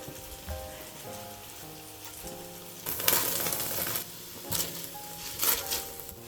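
Onions and carrots sizzle in a pot of beef bourguignon, a steady crackling fry with louder bursts of hissing spatter as the vegetables hit the hot fat.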